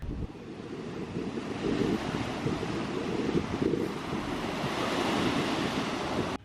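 Ocean waves breaking on a black sand beach in Iceland, a constant broadband wash of surf mixed with gusting wind buffeting the microphone, steady and close throughout.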